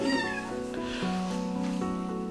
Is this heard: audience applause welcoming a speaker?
no